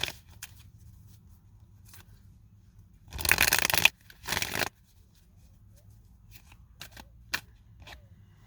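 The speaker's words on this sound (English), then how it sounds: "I'm going to shuffle the cards really well for you" Tarot cards shuffled in two short, close bursts of papery riffling, followed by a few faint taps and clicks over a low steady room hum.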